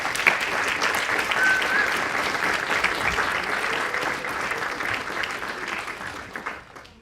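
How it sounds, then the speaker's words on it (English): Sustained, dense applause from a seated audience at a medical school white coat ceremony, loud and steady before tapering off near the end. "family and friends, we owe you a bit of a round of applause as well"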